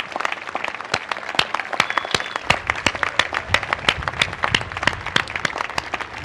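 Crowd at a groundbreaking ceremony for a new San Francisco General Hospital building applauding hospital workers, a moderate-sized audience with distinct individual claps, steady and fairly close throughout.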